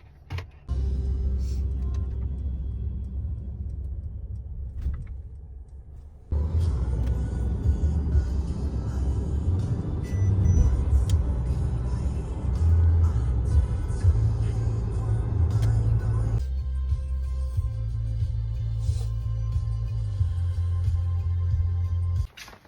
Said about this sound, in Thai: เดี๋ยวพาไปดูจะขับขึ้นทางด่วนครั้งแรก